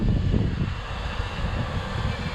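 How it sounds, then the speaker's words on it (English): Strong wind buffeting a microphone on a beach, a steady low rumbling roar with no break, loud and close throughout. "See, it's windy."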